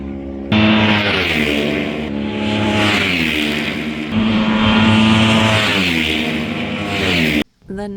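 Racing motorcycles at the Isle of Man TT roar past in quick succession, loud and close, engines revving hard with rising and falling pitch as each machine passes, ending in a brief cut.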